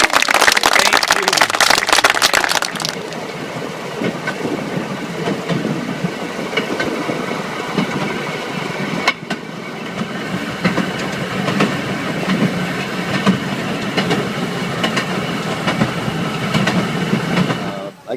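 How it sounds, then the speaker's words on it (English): A rail speeder's 18-horsepower Onan twin-cylinder engine runs steadily with a rattling, clattering rhythm, loud and close, after a brief burst of noise at the start. "The motor is a 18 horsepower Onan twin cylinder."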